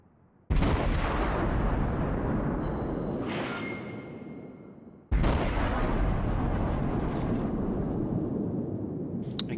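Naval guns in a warship video game firing armor-piercing shells: two massive booming salvos, each a sharp loud blast followed by a long rumbling decay, with faint game alert tones in between.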